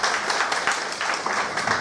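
An audience at a business meeting bursts into applause, a short, fairly dense patter of many hands clapping at moderate loudness, with no talk on top.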